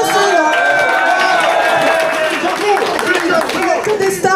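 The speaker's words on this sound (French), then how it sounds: "Vous pouvez l'applaudir aussi." An outdoor crowd at a traditional Auvergne buron gathering in Brion claps and cheers for the local reporter, loose bursts of hand claps mixed with voices and chatter throughout.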